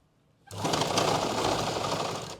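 A sewing machine starts abruptly after a short silence and runs in one steady, loud burst of rapid stitching while elastic is sewn into the waistband of pants, then stops sharply.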